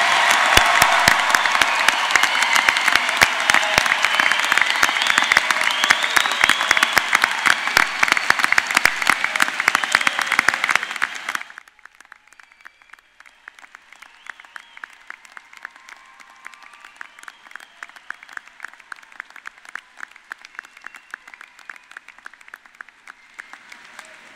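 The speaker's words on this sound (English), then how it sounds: "Let's have a round of applause for the doctoral degree recipients." Applause for doctoral degree recipients at a University of Iowa Graduate College commencement, dense clapping from a large crowd that drops suddenly halfway through to lighter, thinner clapping that carries on to the end.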